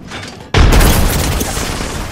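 A frag grenade detonates in the Apex Legends battle royale game, a sudden loud boom at about half a second that holds as a rumbling, crackling roar and slowly fades over the next second and a half.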